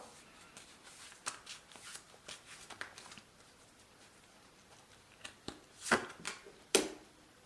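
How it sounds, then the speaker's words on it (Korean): Tarot cards being shuffled and handled at a fortune-telling table, with soft quiet riffles and taps that grow louder near the end, heard alone with no talking. "조언 카드를 뽑아봄으로써 한번 확인해 보도록 할게요"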